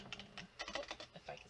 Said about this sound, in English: You just type in the search bar